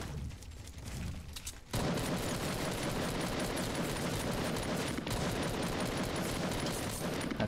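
Gunfire in the video game Fortnite, reported as a sniper: after a short quieter lead-in, a loud, dense, continuous barrage of shots runs without a break to the end.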